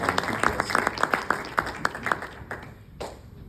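Scattered, uneven clapping from a church congregation welcoming a visiting pastor to a lecture evening, a handful of sharp near claps thinning out and fading toward the end.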